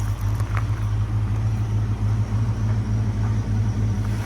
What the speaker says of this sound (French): voici notre moteur V8 289 cubic inch